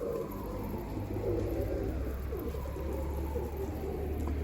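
A çapar kelebek pigeon coos softly and repeatedly close by, a low murmuring call over faint steady background hum.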